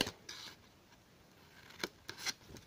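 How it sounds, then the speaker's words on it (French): Scissors snip through the flaps of a handmade paper craft box, a few crisp, close cuts in two quick pairs with quiet pauses, no talking. "Donc ensuite on va faire les rabats. Donc on coupe."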